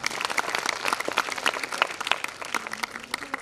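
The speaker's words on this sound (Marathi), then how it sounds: "आपण सगळ्यांनी आपले डायरेक्टर सर आणि अधिष्ठाता डॉक्टर रामन सरांसाठी जोरदार टाळ्या वाजवायच्या आहेत." An audience at a college prize-giving gathering bursts into dense, sustained applause, with many hands clapping at once for a few seconds.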